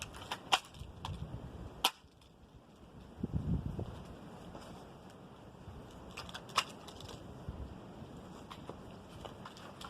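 A cheap ten-dollar air pistol firing BBs at 240 feet per second at a pine board outdoors gives a few sharp, isolated snaps spaced seconds apart over strong gusting wind noise.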